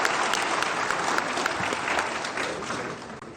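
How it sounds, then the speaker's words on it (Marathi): An audience at a Nagpur felicitation event claps continuously to welcome Devendra Fadnavis, a moderately loud, even wash of applause lasting a few seconds before easing slightly. "मी आपल्या सगळ्यांना विनंती करेल की जोरदार टाळ्या वाजवून आपल्या देवेंद्रजींचे स्वागत करावे"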